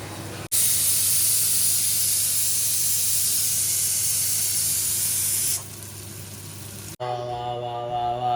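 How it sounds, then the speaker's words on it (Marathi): Pomfret fish frying in a small amount of oil gives a loud, steady hiss and sizzle that drops to a softer hiss partway through, then gives way to a different tonal background at the end. "बघा कमी तेलात फ्राय करते एकदम कमी तेलात"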